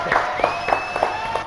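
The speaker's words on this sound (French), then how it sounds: "on l'applaudit quand même," An audience applauds a young singer on a French TV show, a brief burst of clapping and light cheering rising and falling in waves, with some voices mixed in.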